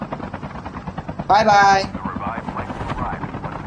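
In the Call of Duty Mobile battle royale, a helicopter's rotor chop surges loud for a moment and then fades, heard under steady talk from a player.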